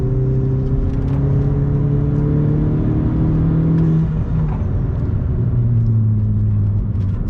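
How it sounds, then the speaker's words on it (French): A 2011 Opel Corsa GSI turbo, stage 1 tuned, pulls hard with a loud sustained engine drone that climbs in pitch, eases off, then builds again, heard close from inside the car without talking. "Il y a un espèce de mini pop and bang à la fin"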